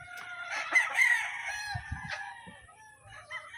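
A gold stag gamefowl rooster crows once, loud and close, a drawn-out cock-a-doodle-doo followed by a few softer clucks and farm noises.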